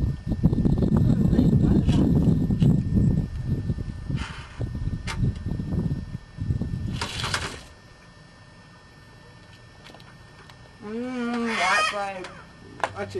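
Birds call near a picnic at Jabiru, a few loud honking, clucking cries near the end after a stretch of people talking and rustling close by.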